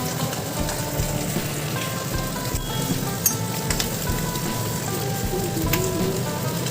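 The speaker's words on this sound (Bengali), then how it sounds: "ওদিকে মাছ ভাজা হচ্ছে" Fish frying in hot oil makes a continuous crackling hiss, dense and fairly close, with a few faint pops; no one speaks.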